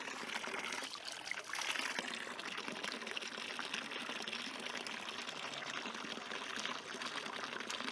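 Public drinking fountain in the Swiss town of Einsiedeln, water splashing and trickling steadily into its basin with a bright, continuous hiss, heard up close outdoors with no talking.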